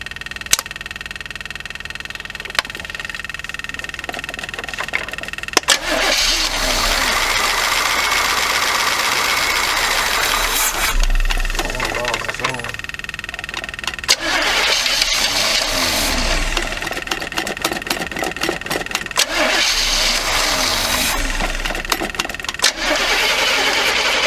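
A 1979 Chevy G20 van's engine being cranked repeatedly, the starter churning in several long bursts with brief pauses between, loud and close, while the engine struggles to catch.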